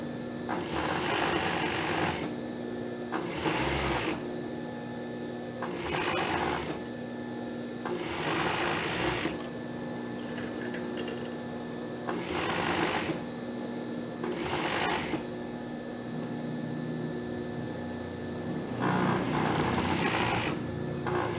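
A sewing machine stitches elastic onto a swimsuit lining in repeated close bursts of rapid mechanical chatter, separated by short quieter pauses.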